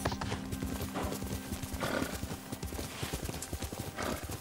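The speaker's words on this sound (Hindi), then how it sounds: "विताल घोड़ा चखचख चखचख।" Steady, rhythmic horse hooves clip-clop through the Ghost of Tsushima game world, a continuous close trot with a brief whinny-like swell midway; a voice speaks faintly underneath.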